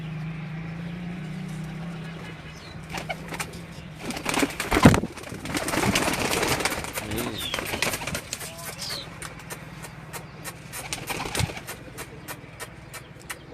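White pigeons at a rural homestead in Gujrat, Pakistan, give soft intermittent coos and wing flutters, fairly close, over a low steady hum and background murmur.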